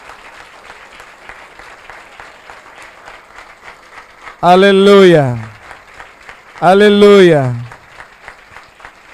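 A church congregation at a Spanish-language Sunday morning service applauds steadily throughout, a loud continuous patter of many hands, while a voice twice calls out loudly over it.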